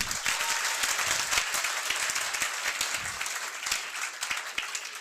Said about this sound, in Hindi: एक बार जोरदार अपने लिए तालियां बजाइए